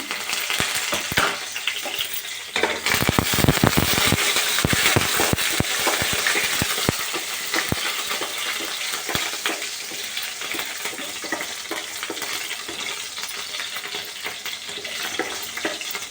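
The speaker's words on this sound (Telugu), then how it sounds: "స్టవ్ ఆయిల్లో పెట్టుకొని పోపు గింజలు వేసుకుందాం" Oil sizzles and crackles loudly as tempering spice seeds fry for a mushroom curry, with sharp popping bursts early on that settle into a steady hiss.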